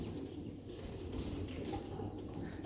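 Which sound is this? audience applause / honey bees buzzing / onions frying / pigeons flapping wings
pigeons flapping wings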